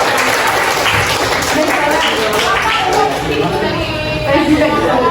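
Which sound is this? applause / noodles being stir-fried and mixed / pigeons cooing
applause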